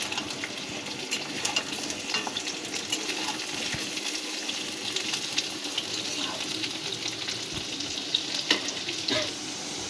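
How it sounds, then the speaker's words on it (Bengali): Potato pieces frying in a pan, a continuous close hiss of hot oil with occasional light knocks and scrapes, no voices over it. "টুকরো করে আলুর পিসগুলোকে ভালো করে ভেজে নেব আমরা"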